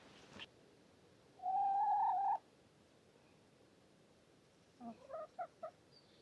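A backyard chicken lets out a drawn-out nasal call, followed a couple of seconds later by a short run of four clucks, both faint against quiet background hiss.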